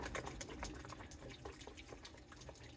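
A dough whisk splashes and clacks through water and salt as sourdough starter is broken up, a soft, busy wet churning close by.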